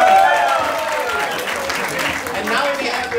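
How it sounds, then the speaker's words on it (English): A crowd at a Jain community honoring event in Houston claps continuously, a broad wash of applause with some voices mixed in, fairly loud and close throughout. "Take an round of applause"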